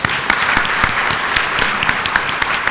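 An audience at a university lecture event bursts into dense, sustained applause, loud and close, with many overlapping claps and no speech.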